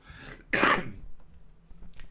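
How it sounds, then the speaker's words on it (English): A single sharp, loud cough close to the microphone, followed by quiet breathing and faint room noise. "Hang on, cough coming."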